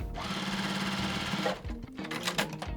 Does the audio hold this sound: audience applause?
no